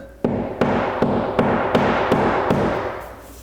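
A drywall anchor is tapped into a wall with a series of about eight sharp, evenly spaced knocks, each ringing briefly before the next.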